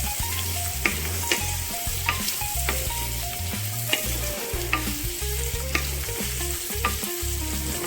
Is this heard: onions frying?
yes